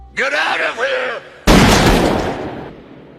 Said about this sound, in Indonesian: Humbert berhasil membunuh Quilty dengan menembakkan beberapa peluru